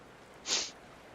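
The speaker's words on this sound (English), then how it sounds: "I got the sniffles." One short, sharp nasal sniff, close and breathy, rising and fading within half a second against quiet room tone.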